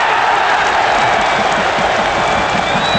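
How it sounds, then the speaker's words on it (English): A big rugby league crowd at the 1977 Workington versus Wigan Lancashire Cup Final roars and applauds after a kicked goal, a loud continuous wash of cheering with a few whistles rising above it. "a big crowd, a very sporting crowd, cheering like mad"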